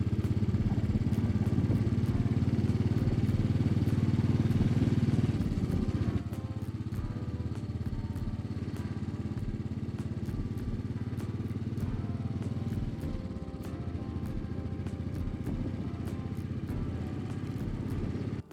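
A motorbike rides a mountain road near Keylong in the Himalayas. The engine drones loud and steady throughout with a rough, clattering tone, and the pitch drops slightly partway through.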